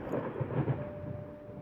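Low rumbling thunder rolls on outside in the horror video game Layers of Fear, a dull and steady drone with a faint sustained music tone over it, continuous and fairly quiet, with no voices.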